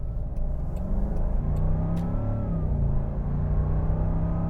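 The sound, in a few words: Land Rover Defender 90 supercharged V8 accelerating, exhaust noise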